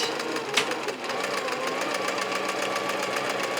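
A large sewing machine stitches a quilt-along applique project with a fast, steady, even whirring rattle up close, with no voices.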